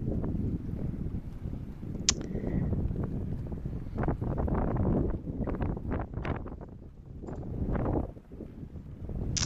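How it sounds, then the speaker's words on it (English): Strong wind gusts buffet the bow of a Dufour 412 GL sailing yacht off Antigua, a loud continuous roar with surging rushes and a couple of faint clicks. "Now I'm going to take you out front, listen to the wind."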